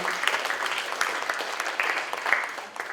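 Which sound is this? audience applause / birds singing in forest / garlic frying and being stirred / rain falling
audience applause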